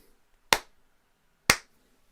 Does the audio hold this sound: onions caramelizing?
no